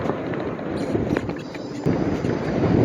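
Gusty wind buffets the microphone during a bicycle ride in the Skole Beskids, with a low, rumbling roar that rises and falls throughout, fairly loud and close.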